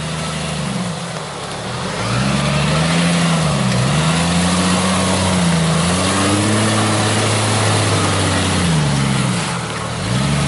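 Jeep Cherokee XJ with a 3-inch lift offroading in the jungle, its engine loud and close, revving up and down in repeated swells that hold strong throughout.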